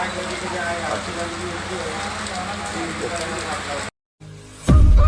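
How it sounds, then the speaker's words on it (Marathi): Dense, steady roar of heavy monsoon rain pounding surfaces in Khatav taluka, Maharashtra, broken by a brief dropout before a louder low rumble at the end. "पाऊस भरपूर पडतोय धो धो"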